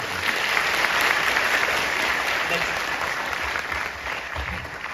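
An audience at a product business presentation claps in a steady, dense burst of applause that holds for several seconds and eases slightly toward the end.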